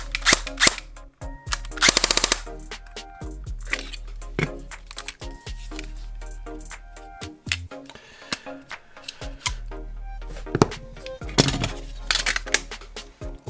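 Airsoft AEP gun powered by a lipo battery, firing in short sharp bursts and single shots with clicking mechanical noise between them, close and fairly loud with no talk.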